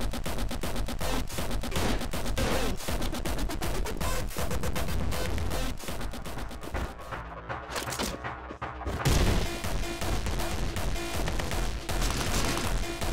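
Rapid pistol gunfire in the first-person shooter Anger Foot, dense and loud over a busy game soundtrack, with bursts of shots running almost continuously and a brief dip before resuming.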